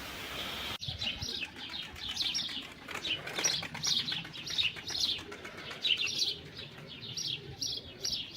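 A young smoky-grey male pigeon coos and chirps close by in repeated soft bursts, with a brief flutter of wings near the start over a quiet room background.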